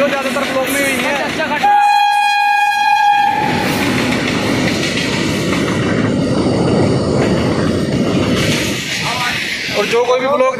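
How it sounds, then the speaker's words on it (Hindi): A train runs on a nearby track with a loud rumble and clatter of wagons, a steady horn blast sounding for about two seconds early on, and voices talking over the passing noise. "ट्रेन उस वाले ट्रैक पे चल रही"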